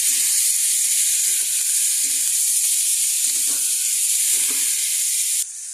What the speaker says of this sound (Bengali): রসুন গ্রেট করে রেখেছি সামান্য পরিমাণ। এবার ওগুলোকে ভাজবো, হালকা করে ভেজে নেবো আমরা।